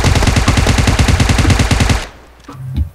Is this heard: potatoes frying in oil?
no